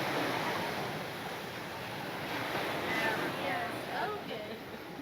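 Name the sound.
waves on a beach in Aruba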